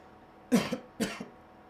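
Two short, close coughs in quick succession, each a sharp burst followed by a softer after-sound.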